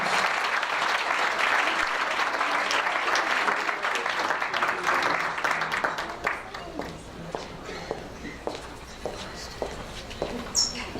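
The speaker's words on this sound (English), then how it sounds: "give them a round of applause" Audience applause at a senior alliance annual luncheon, a dense sustained round of clapping that thins out after about six seconds into scattered individual claps.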